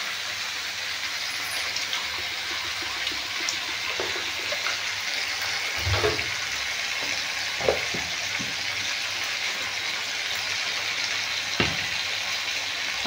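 Eggplant, kohlrabi and taro fry with mustard in a pan, giving a steady, close sizzle with occasional low thumps and soft stirring knocks, no talk over it.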